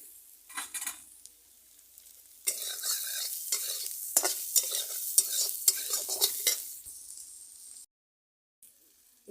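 Chopped green chilies stirred and frying in a pan for batata poha, with bursts of scraping, clinking stirs over a steady sizzle that stop abruptly near the end, leaving near silence.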